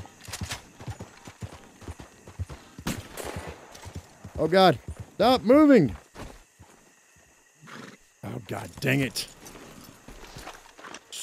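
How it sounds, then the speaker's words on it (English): In the Red Dead Online video game, a horse's hooves clop along while the animal gives several loud whinnies in the middle. Someone talks and exclaims throughout. "Stupid horse."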